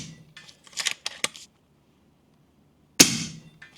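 An FX Leopard air rifle fires, a few sharp muffled clicks and shuffles early on, then after a silent pause one loud crisp shot with a short decaying tail, close to the listener.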